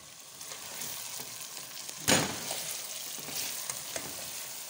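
Pounded soumara sizzles and fries with meat in a pan, a steady crackling hiss with a louder burst of sizzle partway through as the mixture is stirred, no voices.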